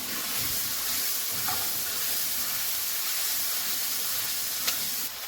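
Chopped tomato hits hot oil in a pan with ginger and garlic, giving a loud, steady sizzling hiss that holds evenly throughout, with a couple of faint clinks near the end.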